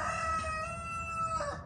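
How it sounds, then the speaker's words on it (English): Roosters crow outdoors at a project-car workspace, one long drawn-out call lasting over a second, fairly distant and alone without speech. "these roosters don't like to let me talk"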